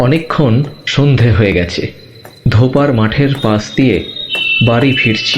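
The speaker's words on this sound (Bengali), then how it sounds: "গা ছমছমে নিস্তব্ধতাকে যেন আরও থমথমে করে তুলেছে ঝিঝির নিরন্তর ডাক" Crickets chirp in a steady high trill on a quiet evening beside an open field, faint and continuous beneath a voice narrating a story.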